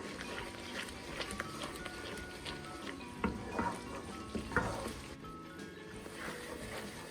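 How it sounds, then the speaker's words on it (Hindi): Spices cook over low heat in a pan while being stirred, giving a soft, steady sizzle broken by scraping strokes of a spoon, close and fairly quiet, with no talking. "अभी यहाँ 2 से 3 मिनट हम हल्की आंच पे मसाले को कुक कर लेते हैं।"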